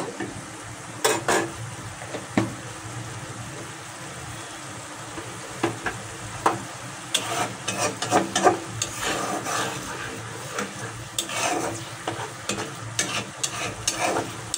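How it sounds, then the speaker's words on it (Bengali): Chili spice masala sautés in a pan for a bitter gourd fry with rohu fish roe, a steady sizzle punctuated by repeated scraping and clinking strokes of a spatula against the pan, close and busy. "এখন এই মশলাটাকে আমি কিছুক্ষণ কষিয়ে নেব"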